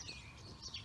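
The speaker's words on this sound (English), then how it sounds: "There's a lot of birds." Birds in a yard chirp faintly, giving a few short, high tweets in quick succession against quiet background noise.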